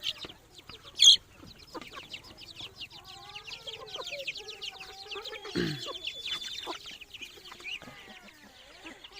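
Chickens cluck and chatter in a farmyard, a busy mix of soft clucks and calls with one brief loud squawk, heard at moderate distance amid faint background voices.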